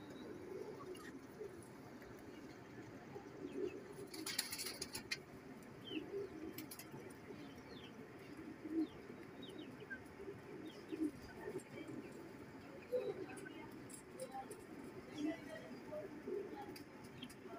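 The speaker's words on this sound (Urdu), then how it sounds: "یہ مسا میل ہے, مسا کبوتر ہے." Pigeons coo softly in a loft or coop, low steady murmuring calls repeating under faint background chatter and occasional chirps, with a person talking nearby.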